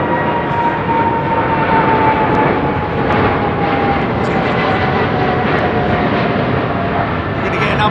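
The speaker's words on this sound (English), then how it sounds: "I think the 350 is powering up for it" An Airbus A350 jet at London Heathrow powers up for takeoff with a loud, steady, broadband engine roar and a faint rising whine. The roar stays constant throughout with no break.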